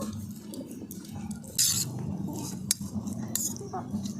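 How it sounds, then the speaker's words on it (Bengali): Tiffin ingredients being gently folded together in a bowl, with a spoon clinking against the dish and soft squishing of the mixture, a few sharper clinks standing out over steady close-up stirring. "এইবার সমস্ত কিছু আমি খুব হালকা হাতে একসাথে মিশিয়ে নেব"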